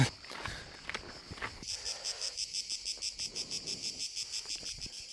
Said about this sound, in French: 100 décibels de cigale, ça faisait longtemps quoi.